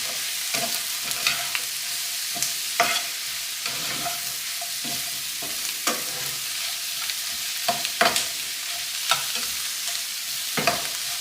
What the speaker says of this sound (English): So we're just going to saute these until they're nice and brown and cooked down a bit.